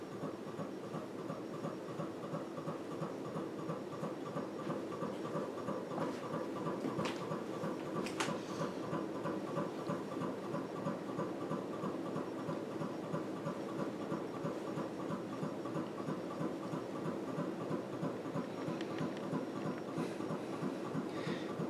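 A Casablanca Panama ceiling fan in Moroccan sand finish runs at speed 6 with a steady, smooth whir and a fast rhythmic ticking flutter from a slightly off flywheel, constant and close throughout with no voices.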